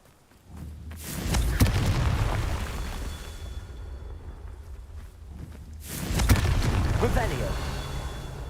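Confringo fire-spell explosions in the Hogwarts Legacy video game: two loud, booming blasts roughly five seconds apart, each with a rumbling tail, while a voice speaks over the game sound.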